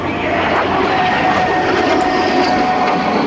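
An L-39 Albatros jet at an airshow roars overhead in a loud, steady, broadband engine rush that fills the whole stretch without letup.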